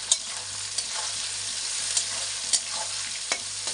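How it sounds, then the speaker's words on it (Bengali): Onion frying in a pan with a soft, steady sizzle, broken by a few sharp scraping clicks of a spoon stirring, close by with no talking. "পেঁয়াজটা এখন লাল লাল করে ভাজা হবে।"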